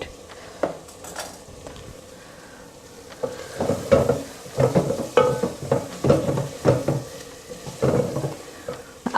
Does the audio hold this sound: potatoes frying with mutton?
yes